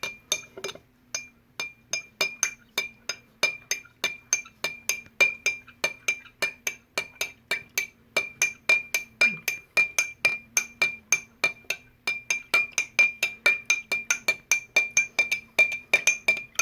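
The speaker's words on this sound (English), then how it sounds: "All right, go ahead and stir like you're stirring sugar into your tea." A spoon stirs dish soap in water inside a glass, sounding as a long run of rapid, evenly spaced ringing clinks close up that continue throughout with no voices.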